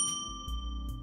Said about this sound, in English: set your notification bell so you'll be notified when we put these videos over